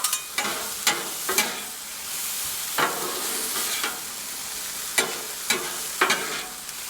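Cut chicken pieces for fajita tacos sizzle on a Blackstone griddle, a soft steady hiss broken by repeated sharp scraping clicks of a spatula stirring and turning the meat, fairly quiet and close, no voices.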